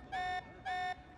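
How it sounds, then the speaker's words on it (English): An alarm sounding in Xenoblade Chronicles 3, two identical electronic beep-tones in a steady repeating pattern, faint and on its own with no talk. "This alarm's worrying."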